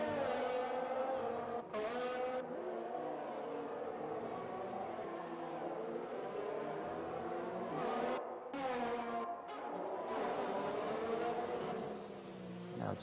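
Formula 1 cars in the F1 2020 video game racing at the Japan circuit, a continuous loud high engine whine with gear shifts and brief dips, several cars roaring close together, no talking.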